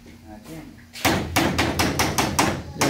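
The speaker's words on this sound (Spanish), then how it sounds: "A batir los huevos." Eggs are beaten in a bowl for chard patties with a quick, steady run of loud clacking strokes, each close and sharp, after a brief murmur of a voice at the start.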